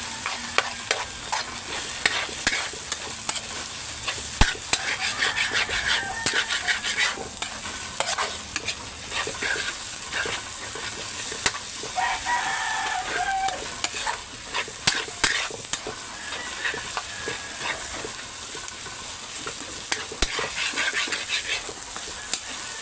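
Eggs fry with papaya in a pan, a steady close sizzle and hiss with frequent stirring clinks and scrapes throughout, and a dog barks faintly once or twice in the background.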